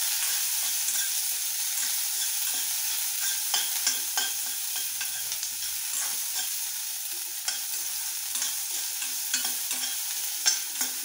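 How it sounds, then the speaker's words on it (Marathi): Finely chopped onion with curry leaves sautéed in a pan for ridge gourd peel bhaji, giving a steady hiss of frying broken by repeated light stirring scrapes and taps, close up with no speech. "लालसर होईपर्यंत परतून घ्यायचा कांदा."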